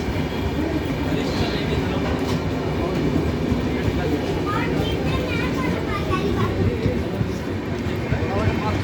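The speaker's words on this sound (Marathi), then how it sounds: "हे जुनागड रेल्वे स्टेशन आहे गुजरातमधील" Train noise at Junagadh railway station in Gujarat, a steady loud rumble of carriages with rail clatter that runs through the whole clip, mixed with station crowd sounds and faint children's voices.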